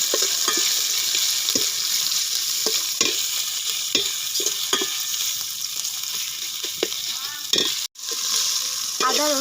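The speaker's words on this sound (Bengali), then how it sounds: "আদা রসুন পেঁয়াজটা একটু ভাজা ভাজা করে নেব।" Chopped ginger, garlic and onion fry in a pan with a loud, steady sizzle, broken by repeated scraping stir strokes and a brief dropout near the end.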